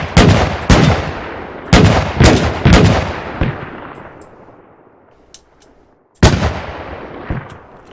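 A small 20mm gun on a WW2-era vehicle fires in Arma 3 with the IFA3 mod. Loud, sharp single shots come in uneven clusters, each with a long fading echo, then a quiet gap before another volley.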